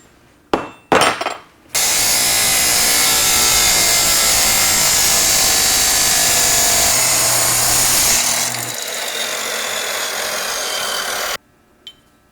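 Power tool cutting through a metal Hurst 391-3180 shifter part for a Ford Maverick and Mustang, a few sharp knocks followed by a loud, steady, high-pitched grinding whine lasting nearly ten seconds before stopping.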